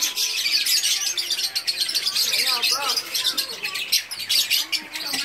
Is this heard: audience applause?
no